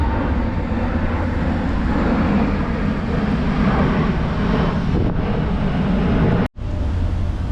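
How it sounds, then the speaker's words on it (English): Airplane passing overhead outdoors, a loud broad continuous roar mixed with wind buffeting on the microphone, cut by a brief dropout near the end. "I'm just gonna wait for this plane."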